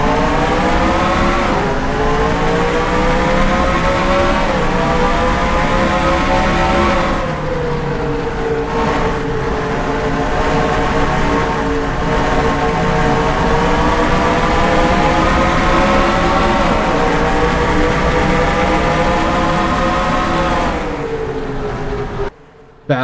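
Stock race cars roar out of turn 4 onto the green flag at the Milwaukee track in the Dodge Dealers 300, loud engines climbing in pitch as they accelerate, sustained and close, with a rising shift of gears.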